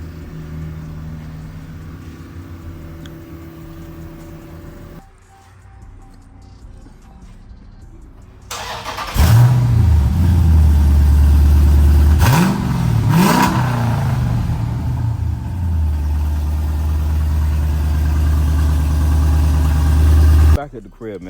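A car with catless mid pipes and valvetronic mufflers idles, then revs hard several times with a raspy, loud exhaust note before settling back to a steady rumble.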